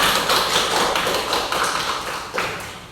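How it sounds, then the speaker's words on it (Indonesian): A classroom of schoolchildren claps together, a dense loud patter of many hands rising and falling over a few seconds with no talk. "Beri tepuk tangan untuk kita semua."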